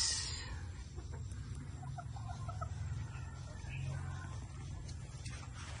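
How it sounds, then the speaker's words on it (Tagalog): Chickens cluck softly in a steady farmyard din while being fed corn, with a low continuous rumble and faint voices in the background. "Manok to."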